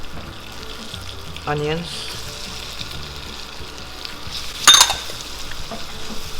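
Garlic and onions frying in butter in a pan for shawarma, a steady soft sizzle under a brief spoken word, with a sharper clatter of a utensil near the end.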